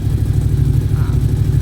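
A Moto Morini X-Cape 1200 motorcycle engine idles up close, a steady, loud low rumble with an even throb and no voices.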